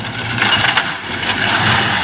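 A Lemken Spinel mulcher driven by a Mahindra Yuvo Tech+ 585 4WD tractor crushes pigeon pea crop, giving a loud, continuous roaring and grinding drone with a steady engine hum underneath.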